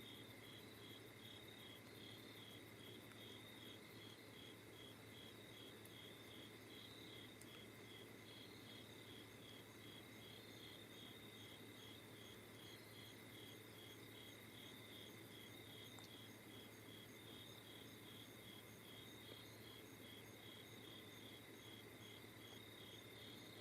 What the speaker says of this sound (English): The crickets aren't as loud.